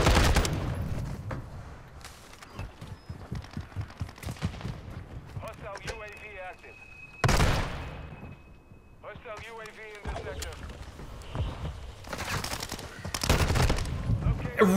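Call of Duty: Modern Warfare multiplayer gunfire, with sharp automatic bursts and scattered shots throughout. A voice talks over the shooting, and there is a brief quieter gap in the middle.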